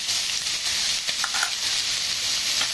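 Chicken gizzards and onion stirred in a frying pan, with a steady close hiss of sizzling and a few soft scraping stirs over it.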